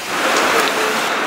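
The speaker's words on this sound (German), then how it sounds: "weil mit dem Film bei dem Regen, es geht einfach nicht." Heavy rain pouring down in the town of Wismar, a loud, close, continuous hiss of drops striking surfaces with no voices.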